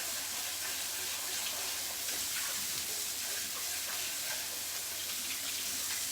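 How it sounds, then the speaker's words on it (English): Chopped onion sizzles in a hot skillet, a steady, even hiss of frying that holds at moderate loudness without pause or voices. "We're going to dump that onion in there"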